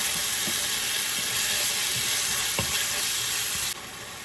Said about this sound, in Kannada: ಟೊಮೆಟೊನ ಸ್ವಲ್ಪ ಫ್ರೈ ಮಾಡ್ಕೊಳ್ಳುವ